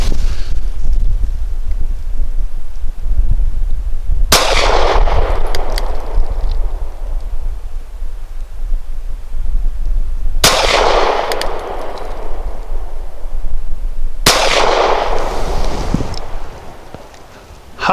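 Three sharp, loud pistol shots from a KelTec PF-9 firing heavy 140-grain subsonic rounds, spaced several seconds apart, each cracking over steady outdoor wind noise and trailing off in a brief echo.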